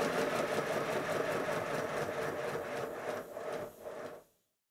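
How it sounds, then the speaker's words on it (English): A small old model steam locomotive engine, the Speedy, runs after a gasket repair, giving a fast, steady mechanical chuffing close by that slows and cuts off near the end. "the engine runs okay"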